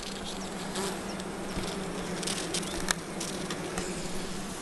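Honey bees buzz around a bait hive in a continuous, close hum, with individual bees flitting past now and then.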